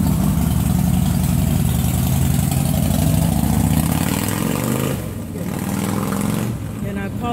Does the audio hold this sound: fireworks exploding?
no